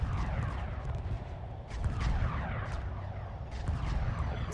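Weapons fire in the space strategy game Homeworld comes as a continuous barrage of low booming blasts and crackling impacts, dense and moderately loud, with no pause across the stretch.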